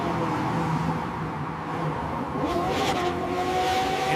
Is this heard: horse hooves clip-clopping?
no